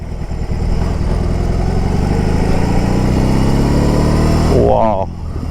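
A BMW R18 Roctane motorcycle's big engine rumbles steadily from up close while the rider speaks over it, the note dropping slightly near the end.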